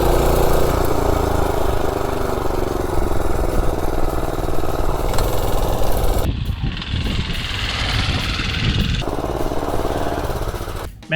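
A gas mini bike engine running on a diesel and oil fuel mix. It chugs loud and close without a break, its tone shifting partway through as the revs change, with no clear speech over it.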